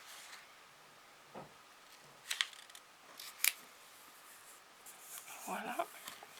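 Large scissors cut through vellum paper in a few short, crisp snips scattered between pauses, close and fairly quiet, with a soft voice speaking briefly at times.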